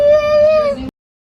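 A single clear cat meow, close and fairly loud, lasting under a second and followed by silence.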